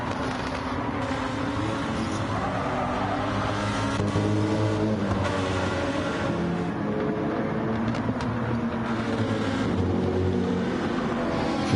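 Replica BTCC touring race cars heading downhill toward a tight double right-hander, a steady loud engine roar with shifting revs from several cars running close together, no voices heard.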